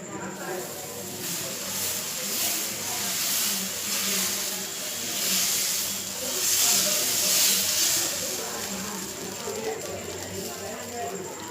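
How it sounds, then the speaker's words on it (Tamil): Dosa batter poured onto a hot stone griddle gives a steady, close sizzling hiss that swells and fades gently throughout, with faint background noise beneath. "கல் சூடாகிடுச்சு. இப்போ தோசையை ஊற்றிக்கலாம்."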